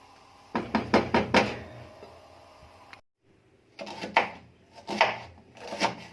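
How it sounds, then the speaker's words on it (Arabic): Onions get cut with a knife, a quick burst of sharp, close chopping knocks. A pause follows, then more scattered strokes in a looser rhythm. "ومعنا بصلتين كتير بقى نخرطهم كده ايه نص طرنش كده"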